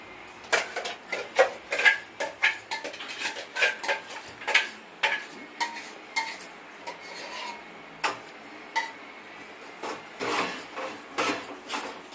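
Tomato-onion paste being stirred into a cashew curry in a pan, with a spoon scraping and rubbing against the metal in repeated short strokes, close and fairly quiet, no voices.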